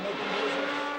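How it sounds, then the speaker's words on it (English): A 1970 Formula 1 race with a Ferrari and a Lotus: a loud, continuous high-pitched engine roar, close and unbroken for one second. "Ickx, in the number 1 Ferrari, was still battling ferociously for the lead with Rindt"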